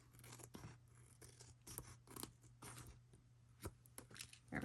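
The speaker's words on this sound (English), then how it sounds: "Let's cut away some of this extra" Scissors snip through thick lamination on a plastic treat bag, a series of crisp close cuts and scrapes with brief pauses between them.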